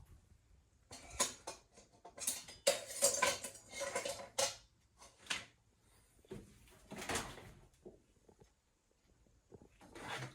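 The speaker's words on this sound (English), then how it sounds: "I'm just going to stir it like that." A spoon stirs couscous in a pot, producing quiet metallic scrapes and clinks in short bursts with pauses between, close and faint.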